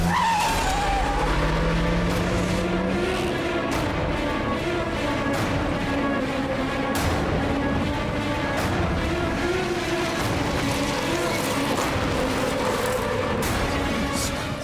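A car tears away in a chase, tires skidding and squealing as the engine roars and revs, loud and close throughout with a steady rushing drone and no voices.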